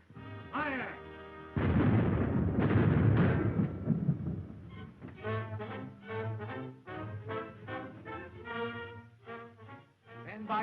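A ship's cannons fire a broadside: a dense, rumbling burst of heavy booms rolls out near the start, then dies away under raised voices and a tonal backdrop.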